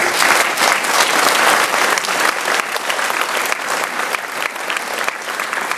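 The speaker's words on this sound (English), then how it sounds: "I'd like a big applause for him, please." Loud, dense audience applause fills a presentation hall during a German ministry event on supercomputing, continuous clapping that eases slightly toward the end.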